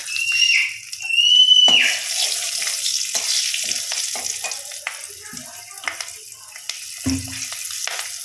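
Two green chillies hit hot oil in a mustard hilsa curry, giving a bright sizzle and crackle, loudest at the start, then softer frying with a few stirring clinks and scrapes nearby.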